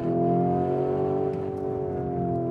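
A Lamborghini Urus engine revs steadily at close range, a deep, loud, sustained growl with rich harmonics that dips slightly midway and then holds.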